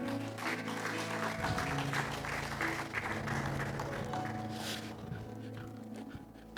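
A church congregation applauding during a sermon, a steady wash of many hands clapping from a moderate distance with faint background tones, fading slightly toward the end.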